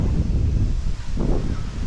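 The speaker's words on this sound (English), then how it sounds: "because everywhere else is too windy." Wind blowing across a mountain hiking trail, a loud rumbling gust buffeting the microphone continuously with a brief dip midway.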